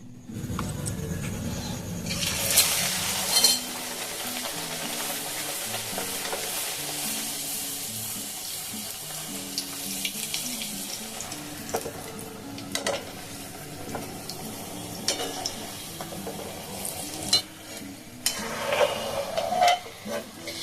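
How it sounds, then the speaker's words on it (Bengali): Mung dal kachori deep-frying in hot oil give a steady, bubbling sizzle with occasional scrapes and clinks from a slotted spoon, under a soft melodic background tune throughout. "এবার চলুন সবগুলোকে একটা একটা করে ছেঁকে নিই"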